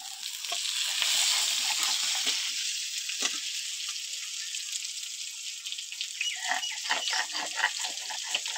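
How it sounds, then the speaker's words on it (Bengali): Bengali spice masala with chopped garlic is sautéed in a pan for an egg curry, a loud continuous sizzle that eases back a little, with stirring strokes and scrapes growing busier toward the end. "মশলাটা এবার একটু কষে নেবো।"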